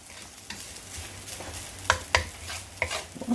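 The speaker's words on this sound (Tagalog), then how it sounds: "ihalo nyo yung rice" Rice frying in a pan for pineapple Thai fried rice is stirred with a few sharp scrapes and clacks of a utensil over a quiet, low sizzle.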